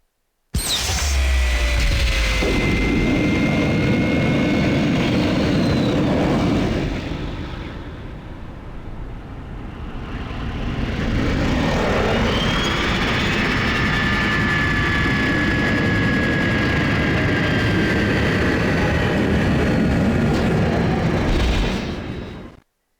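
Jet aircraft engine roar in a cyberspace video game, a loud continuous whoosh that dips briefly midway, then swells again with rising whine tones; no talking.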